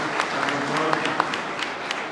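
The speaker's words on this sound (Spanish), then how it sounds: "Un aplauso." Applause from an audience at a cultural conversation event welcoming a government culture minister among the guests, a steady wash of clapping with a few sharper claps standing out, moderately distant and continuous throughout.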